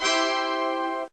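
Windows 3.1 startup sound from 1993: a single short, bright synthesized chord held for about a second, loud and alone, then cutting off abruptly.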